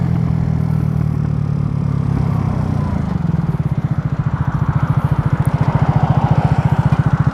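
A Venom X18 motorcycle engine runs hard at high revs while cruising in the rain, its steady drone giving way to a fast, even pulsing throb, close and loud throughout.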